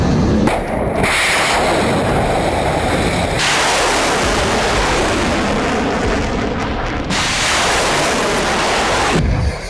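Warship missile interceptions over the Red Sea, a loud continuous barrage of booming blasts and rumbling fire, with sharp bursts at the start and near the end and no talk.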